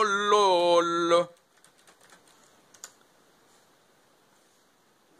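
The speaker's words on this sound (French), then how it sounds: "Et vous tapez avec votre clavier." Typing on a computer keyboard, with soft scattered key clicks that are quiet and close. They follow a burst of sung, wordless voice at the start.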